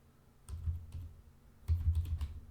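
A computer keyboard is typed on while entering text in a web browser, with two short bursts of quick, close keystrokes separated by a pause and no voices.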